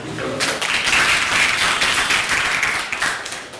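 An audience at a personal finance seminar claps together in a dense, steady patter that holds at an even level for several seconds before easing slightly at the end.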